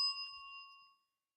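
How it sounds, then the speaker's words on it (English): A studio bell struck once at a live sports radio broadcast, ringing out with a clear metallic ding that sustains and fades over about a second, heard alone with no talk. "I'm going to hit the bell, actually. Here we go. Hit the bell."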